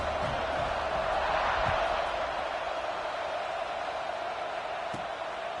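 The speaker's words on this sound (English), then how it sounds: "this crowd is feeling themselves after that last drive" A stadium crowd in a Clemson college football video game, heard as a steady, loud, continuous roar with no clear breaks.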